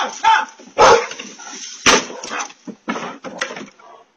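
A dog barks and yips in short bursts, several sharp loud calls spaced over a few seconds, picked up by a doorbell camera outdoors during a bear encounter.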